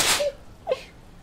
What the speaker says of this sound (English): I really hope I didn't sneeze all over all my stuff.